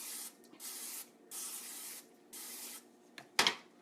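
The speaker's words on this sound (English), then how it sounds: "canola oil cooking spray" Canola oil cooking spray hisses from an aerosol can in a home kitchen, four short even bursts in a steady rhythm, close and clear, followed by a sharper clatter.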